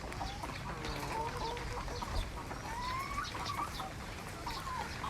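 Laying hens cluck steadily at a poultry farm, with many overlapping birds calling at a moderate distance over a constant noisy background.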